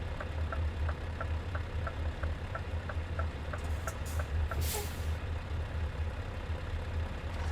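A truck in Euro Truck Simulator 2 idles with a low engine rumble and a rapid ticking, then a brief loud air-brake hiss bursts out as the handbrake is set.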